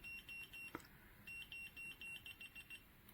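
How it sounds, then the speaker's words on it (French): A CIGMAN bilateral laser rangefinder emits a series of short, quiet electronic beeps as it is moved toward the midpoint, with a faint tone pattern and a single click in the middle; no speech. "Et quand je suis pile poil au milieu, il me l'indique par un petit bip."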